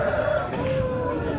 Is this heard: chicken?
yes